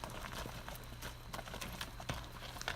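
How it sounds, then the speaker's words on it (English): A working ranch horse walks outdoors on a ranch outside Elko, Nevada, its hooves clip-clopping in a steady, moderately close rhythm over a constant low background hum, with no talking. "This is very typical of what this horse does every day, working through the sagebrush, crossing rivers, and looking for cows."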